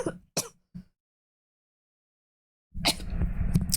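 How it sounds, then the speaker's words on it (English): Harsh coughing fit from someone nearly choking on food: two or three sharp close bursts, then a pause of silence before a louder rough stretch of coughing and throat clearing. "I only cough like that when it's like you're choking on a piece of food"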